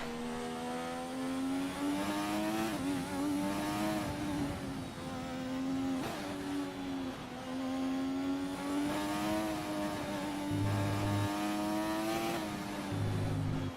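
Race car engine in the F1 2020 video game drones loud and continuous, its pitch rising and falling through gear changes over about fourteen seconds, with no talking.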